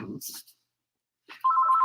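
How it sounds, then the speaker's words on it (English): A mobile phone's ringtone starts up as a steady electronic tone near the end, after a brief bit of talking and a short silence. "there's my phone"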